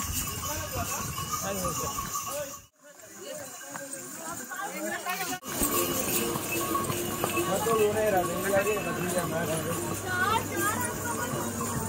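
Horse hooves clip-clopping at a walking pace amid a busy crowd on the route to Vaishno Devi, with people chattering throughout and a brief dip in the noise partway.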